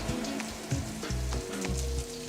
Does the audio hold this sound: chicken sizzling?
yes